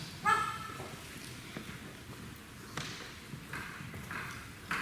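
A dog barking once at the start, a short sharp yip heard faintly against a noisy room, followed by scattered soft thuds and rustling.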